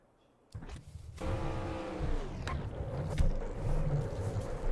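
Several race car engines fire up one after another in the NR2003 racing game, then settle into a loud, steady idle with a layered harmonic drone and no talking.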